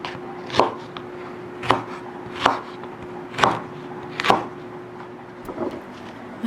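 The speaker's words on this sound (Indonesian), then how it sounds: "Delapan batang okra. Potong ujung okra," A knife trims the ends off okra and slices it diagonally on a cutting board, five or six crisp evenly spaced chops over a quiet background, no talking.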